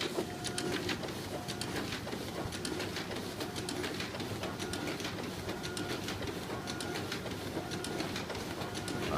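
Office printer running a double-sided copy job with corner stapling, a faint rapid train of clicks and mechanical whirring repeating steadily throughout.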